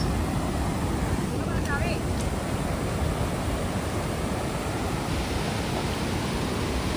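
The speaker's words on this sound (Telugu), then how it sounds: "వాటర్ సౌండ్ అయితే ఫుల్ వస్తుంది ఇక్కడ." Water from a lake pours steadily over a weir, a loud, continuous rushing roar that fills the whole clip without a break.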